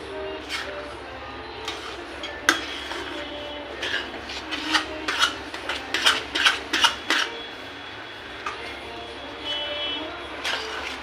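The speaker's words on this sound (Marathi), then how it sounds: "तीळ पाकात व्यवस्थित मिक्स करून घ्यायचा आहे" Spoon scraping and rasping as sesame seeds are stirred into thick jaggery syrup in a pot for Sankranti tilgul, a series of irregular close scrapes and knocks, denser in the middle, with no talk.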